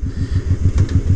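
A Honda 1100 Sabre motorcycle fitted with a Cobra exhaust pipe idles close by, its deep, even, loping exhaust pulses thumping in a steady rhythm.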